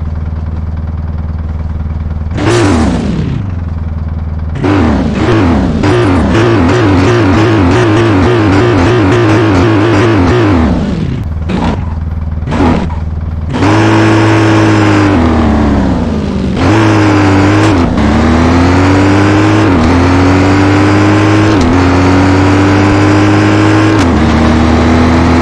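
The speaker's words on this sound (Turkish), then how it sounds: "Şimdi fazla tutmadan arabamızın sesini dinletmek istiyorum size." Car engine in the mobile game Car Parking Multiplayer, loud and close, revving up and down in repeated bursts with gear-change drops, then holding higher sustained revs, no talking.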